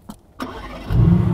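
A Mercedes-AMG GT R starts up: a couple of faint clicks, a brief starter whir, then the engine catches with a deep, loud rumble settling into a throaty idle close by.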